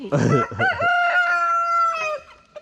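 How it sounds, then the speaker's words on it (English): A rooster crows once, loud and close, a long harmonic cry that rises and holds before trailing off, with a brief cluck at the end. "Rooster's ready to protect me."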